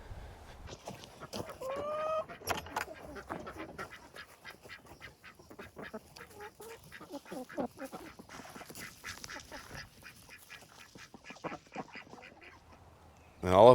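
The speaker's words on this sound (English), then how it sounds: "this is where the chickens live" Poultry cluck and chatter in short bursts. A quack or two is mixed in, all at moderate distance with no talking.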